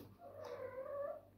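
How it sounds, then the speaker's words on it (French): A cat's drawn-out meow, a single long wavering cry that rises and falls, fairly close and clear against a quiet background. "c'est le chat que vous entendez"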